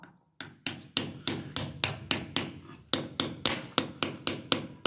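Repeated hard knocks on a toilet seat fitting struck with an improvised object instead of a hammer, about a dozen sharp, loud impacts at an even rhythm, close up with no talking.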